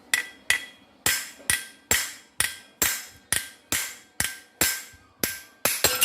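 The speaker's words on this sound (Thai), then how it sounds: "ตอกลูกปืนครับวงในครับ" A hammer strikes metal in steady repeated blows, about fourteen sharp ringing impacts, driving an inner bearing onto a lawn mower gear head during a clutch bearing repair, close and loud with no talk.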